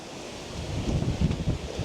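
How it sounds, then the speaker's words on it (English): Strong gusts of wind buffeting a microphone outdoors in a vegetable garden, a low rumbling roar that swells and surges unevenly over two seconds, close and fairly quiet, with no talking. "Ooh, getting a strong wind here."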